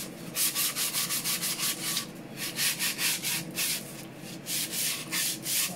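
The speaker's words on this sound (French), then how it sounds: "un petit peu de ponçage pour enlever les surplus, les petits tétons" Steady back-and-forth strokes of sandpaper rubbing on wood, smoothing off leftover nubs on a wooden solitaire board, a rhythmic scratchy swish repeated quickly and evenly, close up with no voices.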